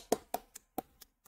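Five or six separate hand claps at an uneven pace, close and fairly quiet, with short silences between them and no talking.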